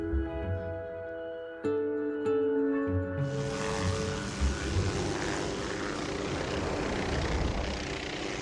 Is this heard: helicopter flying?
yes